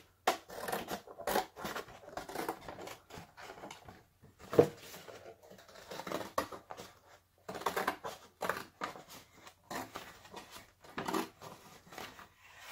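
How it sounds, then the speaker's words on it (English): Scissors snipping through thin cereal-box cardboard along a seam, a run of short crisp cuts and rustles with brief pauses, close and fairly quiet, no talking. "now I'm gonna go ahead and cut this on one of the seams just to open it"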